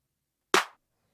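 A single layered drum-sample hit, a clap stacked with a snare, sounds once as a sharp, dry crack with a quick decay, isolated in silence.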